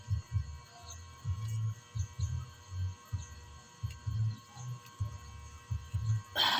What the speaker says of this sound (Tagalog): Ganun lang ang pag-test ng mga motor sa washing machine.